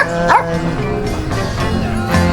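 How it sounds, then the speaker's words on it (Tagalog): Dogs and puppies bark and yip at a farm resort entrance in close, loud bursts, with higher-pitched puppy whimpers mixed among deeper barks. "mga dogs kagad guys yung bubungad sa inyong pagdating dito sa kanilang farm"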